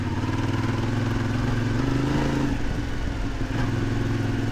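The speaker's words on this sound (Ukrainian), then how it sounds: "О, це я зараз дріхчу, дріхчу, дріхчу заднім колесом." A CF Moto 450 MT motorcycle spins its rear wheel in sand, a steady, moderately loud engine drone with a slight rise in revs partway through and no talk over it.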